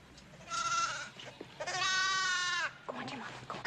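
A lamb gives two loud, wavering bleats close by, with a shorter cry trailing after, in a farm setting at lambing time.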